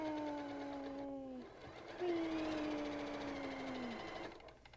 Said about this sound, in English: I love it when the sewing machine is working right.